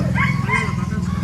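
A dog barks close by in a zoo setting, a couple of quick yappy barks followed by a whimpering tail.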